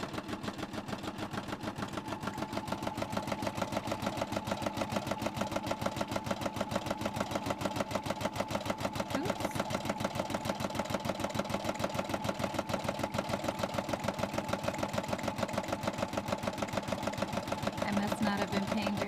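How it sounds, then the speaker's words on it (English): An embroidery-style Sew Art sewing machine stitches the backing onto a key fob, a steady fast rhythmic clatter running continuously and evenly at close range, with no one talking. "right here it's gonna sew the back on"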